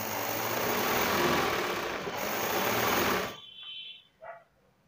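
A sewing machine stitches a blouse with a continuous, fast mechanical whirr for about three seconds, then stops abruptly, leaving only a few faint clicks and handling noises. Nothing is spoken.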